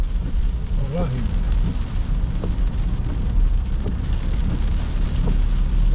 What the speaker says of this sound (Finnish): Harmi tää sade